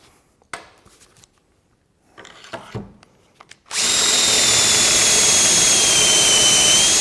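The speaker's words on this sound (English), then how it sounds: "then I'm going to drill" A power drill bores about half an inch into a wood table leg for a mortise, a loud steady whine starting abruptly after a few quiet taps and handling knocks, close up.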